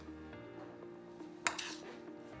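A spoon clinks against dishes while mac and cheese with sharp cheddar and a crust topping is being assembled, with quiet handling noises and one sharp clink partway through.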